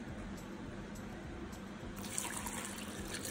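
Cold water poured into a glass while making a mint margarita, a soft continuous liquid trickle and fill that brightens and grows slightly louder partway through, close and alone.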